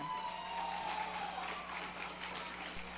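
Soft, continuous applause from an audience at a corporate annual awards ceremony, distant and even throughout, with a faint steady hum beneath.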